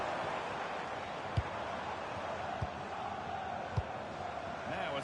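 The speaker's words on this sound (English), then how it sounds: "Well, just listen to this crowd." A football video game crowd murmurs and roars in a steady, even wash at moderate level, broken by a few sharp single thuds standing out above the noise.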